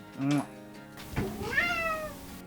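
A pet cat lets out a couple of clear, close meows with rising and falling pitch, one short call followed by a longer drawn-out one, while a person talks nearby.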